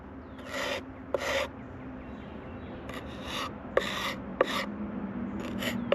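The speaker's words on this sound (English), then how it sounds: "I'm taking my putty knife and going to just kind of smooth it out a little bit over the hole" A putty knife scrapes and smooths wood filler over nail holes in new playhouse siding, making several short rubbing, rasping strokes with small taps between them, close and fairly quiet.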